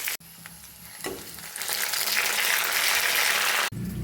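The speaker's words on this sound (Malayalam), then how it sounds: "ചെറിയ ഉള്ളി അതിലേക്ക് ഇടുക. കറിവേപ്പില, പച്ചമുളക്, മല്ലിച്ചപ്പ് എല്ലാം ഇട്ട് മൂപ്പിച്ചെടുക്കുക." Shallots, curry leaves, green chilies and coriander frying in hot oil: a short clatter, then a loud, steady sizzle that swells and holds close-up before cutting off abruptly.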